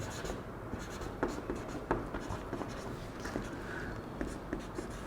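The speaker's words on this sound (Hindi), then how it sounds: "जिसको मैं लिख देता हूँ।" Chalk or marker writing on a board during a chemistry class makes a steady scratchy scraping with small tapping accents as strokes start and stop, over a constant room hum, with no clear speech.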